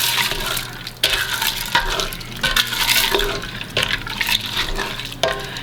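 Egg noodles are stirred into a pot of home-style chicken noodle soup, with sloshing liquid and wet stirring under a sizzling hiss, and sharp utensil knocks against the pot roughly every two seconds. No one speaks.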